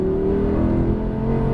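An Audi R8 V10 pulls on throttle around a race track, a sustained loud engine drone holding steady with a rising tone for the whole moment, no voices.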